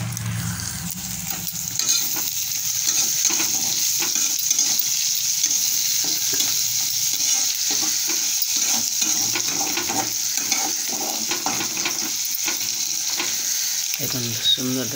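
Onions frying steadily in a pan for a cabbage dish, a continuous close sizzle with scraping stir strokes running throughout, no talking.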